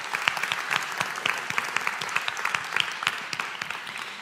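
Audience applause after a motivational mindset talk, a steady dense patter of many hands clapping at moderate volume throughout, with no voices over it.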